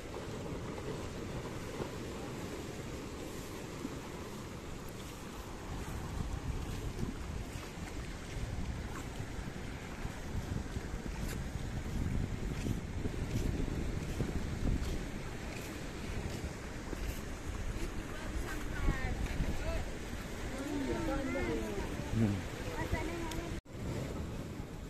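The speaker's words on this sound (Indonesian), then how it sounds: "Rupanya ombak pada waktu pagi ini cukup kuat ya, menghantam tanggul pelataran ini" Strong morning waves from the Indian Ocean crash against an embankment at a river mouth where two rivers meet the sea, a steady rushing surge with wind buffeting the microphone and a voice talking over it.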